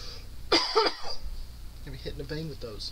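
A few harsh coughs and throat-clearing bursts near the start, followed by a person speaking.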